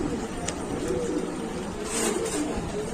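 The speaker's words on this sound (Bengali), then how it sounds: "কবুতর গুলো অনেক সুন্দর দর্শক" Pigeons at a bird shop coo softly, low repeated throaty calls over a busy room tone, fairly near and continuous, with faint background voices.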